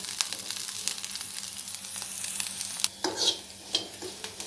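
Pirandai, or adamant creeper, sautéing in a pan on low heat, with a soft continuous sizzle and occasional stirring scrapes, close up and without talk.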